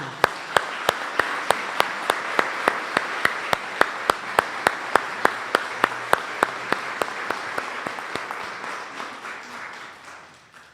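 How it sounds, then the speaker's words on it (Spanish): A church congregation applauds during a feast-day Mass for Saint John Paul II in a chapel, with a steady, regular rhythm of loud claps over softer scattered clapping that gradually fades. "Felicidades a todos, un aplauso"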